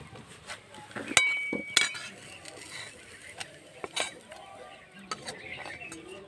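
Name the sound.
stirring paratha egg filling in pan, then removing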